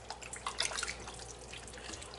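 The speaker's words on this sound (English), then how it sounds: "move it around and rub it together and get all that gunk off of the chicken" Raw chicken being rubbed and rinsed by hand in a bowl of water before cooking curried chicken with potato: faint, close splashing and trickling with light drips, quiet and continuous.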